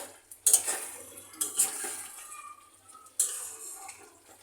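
A spoon stirs chicken biryani in a pot, making a few sharp scraping clinks against the metal with quieter shuffling between them. The sound is close and moderate in level, with no voices.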